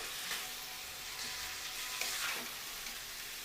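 Masala curry for Andhra-style stuffed brinjal is stirred in a frying pan, giving a steady close sizzle with soft scraping strokes running through it and no voices.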